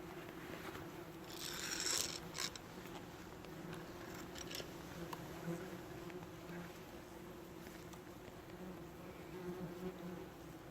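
Wasps buzz steadily inside a concrete manhole, a continuous low insect hum with a brief louder swell of activity near the start, fairly close and unaccompanied by talk.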